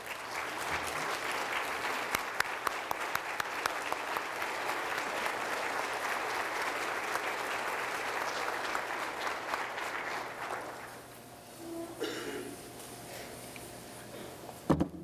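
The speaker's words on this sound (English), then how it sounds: "Please give a warm round of applause" A high school hall of fame ceremony crowd gives an inductee a long, steady round of applause with some sharp individual claps. The clapping dies away near the end, leaving quieter room noise and a few knocks.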